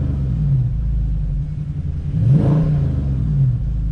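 A 2019 Dodge Charger SRT 392 Scat Pack's V8 rumbles at idle, then climbs in a single throaty rev near the middle before settling back into a deep, steady burble, loud and close with no talking.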